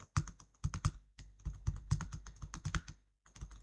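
Someone types data into an Excel spreadsheet on a computer keyboard: rapid, close keystrokes in busy bursts with a brief pause near the end.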